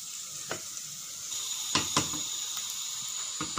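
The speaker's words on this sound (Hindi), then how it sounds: "प्याज डालने के बाद हम करेंगे इनको अच्छे से फ्राई और हम कर लेंगे इसको सुनहरा सा ब्राउन।" Onions fry in a pan for beef biryani, giving a soft, continuous sizzle with a few brief stirring scrapes and crackles over a quiet background.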